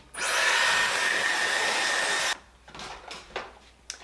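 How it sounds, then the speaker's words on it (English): A hair dryer blows loudly and steadily for about two seconds, drying sprayed lace wig adhesive until tacky, then switches off, leaving a few faint handling noises and soft knocks. "blow dry them"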